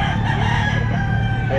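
Sweater gamefowl rooster crowing loudly and close, one sustained crow filling the short moment.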